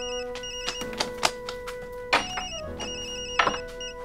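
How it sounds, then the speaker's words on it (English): A telephone rings in repeated electronic trills, fairly close and steady, with occasional bumps and clicks underneath and no talking. "As soon as I heard the phone"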